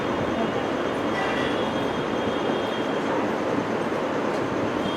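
A railway train rolls past close by during a Ram Katha religious gathering in Sion, a loud, steady rumble with wheel and rail noise filling the whole stretch without a break.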